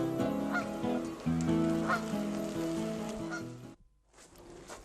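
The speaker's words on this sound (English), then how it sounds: "Blood pressure back to normal, Malcolm smiling, goose returned to lake." A goose honks repeatedly at a lake, a series of loud, close, nasal calls in quick succession that break off abruptly before a few fainter honks follow.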